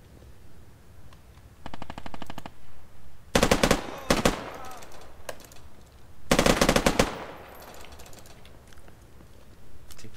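Bursts of machine gun fire from the Squad military video game ring out in loud, sharp volleys, with a lighter rapid rattle early on and two heavy close bursts, separated by quieter background game noise.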